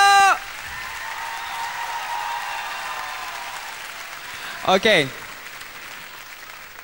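Crowd applause during a televised concert fills the background as a soft, continuous wash, while someone speaks briefly at the start and again near the end.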